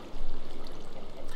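Water flowing in Minecraft, a continuous splashing, rippling stream heard close and fairly loud with no talk over it.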